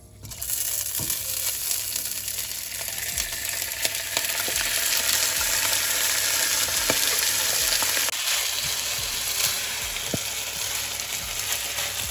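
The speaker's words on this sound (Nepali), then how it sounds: "अब यसलाई बिस्तारै हल्का हातले चलाएर एकछिनसम्म भुट्नुपर्छ" Rice and bay leaves fry in oil over medium heat for a goat pulao, giving a constant close hiss and sizzle, with occasional soft scrapes from gentle stirring throughout.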